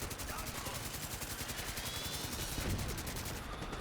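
A minigun in a video game spinning out a continuous, rapid stream of shots, a steady buzzing rattle sustained for several seconds at moderate level, quieter and more distant in the mix.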